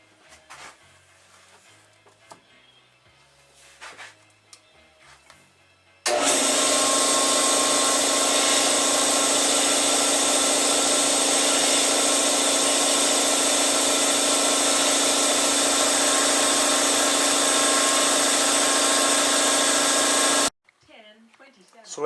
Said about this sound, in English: when the air compressor was running, the circlip actually snapped in really easy